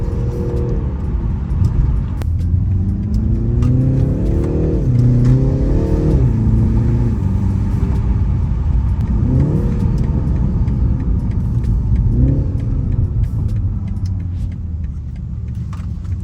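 BMW engine revving repeatedly under acceleration, deep exhaust rising and falling in pitch, with faint, quiet crackling burbles between pulls; no speech.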